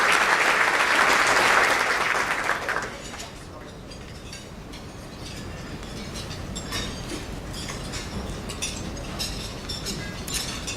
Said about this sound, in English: Let's give Telemundo another round of applause for this beautiful video